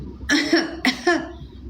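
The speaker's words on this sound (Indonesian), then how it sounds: "batuk saya nih." Two close, loud coughs from one person, each a short harsh burst with a rough tail, about half a second apart.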